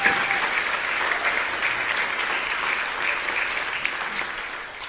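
A crowd at a youth showcase applauds steadily for the dancers, artists, creators and robot designers. The clapping is dense and sustained, holds an even loudness throughout, and no voice rises above it.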